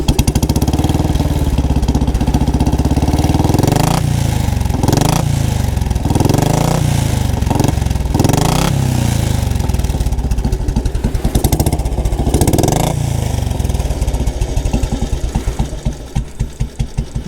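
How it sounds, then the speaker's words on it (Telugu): A 1981 Royal Enfield Bullet 350 single-cylinder motorcycle revs in several loud, close throttle bursts, then settles into a slow, evenly thumping idle beat. "చూడండి ఇప్పుడు కొంచెం థ్రాటిల్ ఇచ్చి చూద్దాం."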